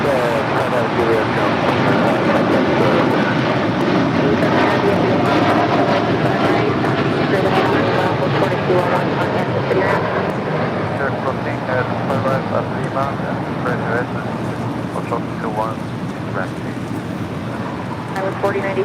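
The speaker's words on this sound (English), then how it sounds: "It was flight heading to London, flight 231 in the 787-9 Dreamliner" A Boeing 787-9 Dreamliner, flight 231 bound for London, produces a loud sustained engine rumble at LAX that slowly eases toward the end, with speech partly buried beneath the noise.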